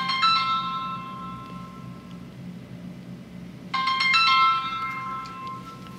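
A phone ringtone chimes in two bright bursts, one at the start and a louder one partway through, sounding near and clear over a quiet room.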